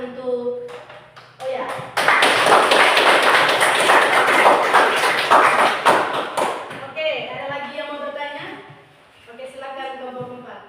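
Classroom applause for a student named Lia, a burst of many hands clapping that lasts several seconds between stretches of a teacher talking.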